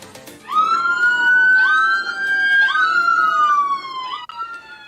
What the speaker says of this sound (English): Look at this in a suburban neighborhood, just blaring their sirens